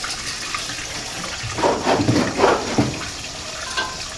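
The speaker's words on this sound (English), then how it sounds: "the gas goes in the gas tank, which is in the cowl here" Gasoline pours into the cowl-mounted fuel tank of a 1929 Ford AA tow truck, a close, gurgling liquid splash that swells in short bursts over a few seconds against quiet background, with no talking.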